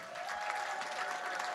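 An audience at a LinkedIn-sponsored talent event applauds steadily, a dense wash of many hands clapping at an even level throughout the short burst, with no voices over it.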